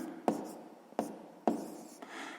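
Pen on paper as fractions are written out, three distinct taps spaced about half a second apart with light scratching between them and a soft rub at the end, quiet and close.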